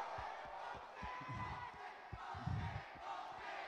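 A large esports event crowd roars and cheers steadily, with a few scattered claps and shouts rising out of the dense, distant wash of voices.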